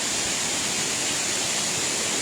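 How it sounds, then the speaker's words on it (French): The tufa waterfall at Baume-les-Messieurs, running low on water, gives a steady, even rushing roar of falling water with no pauses and no voices. "à la si réputée cascade des tufs"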